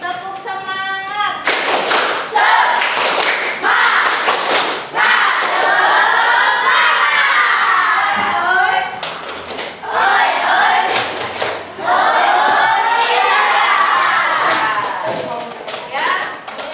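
A classroom of children performs a spirit clap chant led by a teacher, with bursts of loud group clapping in set rhythmic patterns alternating with shouted chanting voices, close and energetic.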